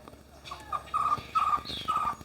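Small high-pitched chirps from a hummingbird in a backyard patio, three or four short bright calls in a row, close and moderately loud with faint background noise.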